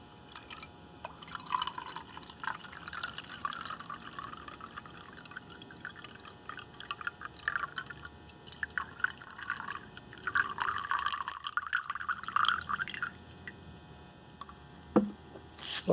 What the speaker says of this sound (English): And now we can start pouring in some water.